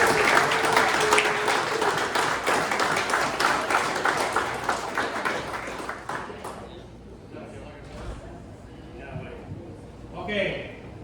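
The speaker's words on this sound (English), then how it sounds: "he deserves a good round of applause" A room of Lions club members applauds a retiring member, with dense steady clapping for about six seconds that then thins out and fades, followed by scattered murmurs and a voice.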